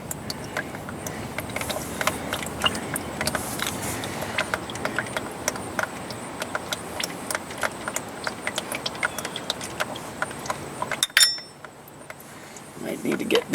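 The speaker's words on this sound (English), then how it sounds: "I'm going to save these bolts here into a magnetic dish." Warm steel bolts from a 2011 Nissan Altima 2.5 SL CVT drain job drop one by one into a magnetic dish. They make sharp, close metallic clinks and taps in an irregular rhythm, then go quiet before a final few clatters.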